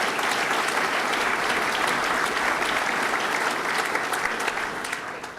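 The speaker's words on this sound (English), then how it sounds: "One more round of applause to Mr." Steady, dense applause from an audience at a business partnership announcement, a sustained wash of many hands clapping close and loud that tapers off toward the end, with no voices over it.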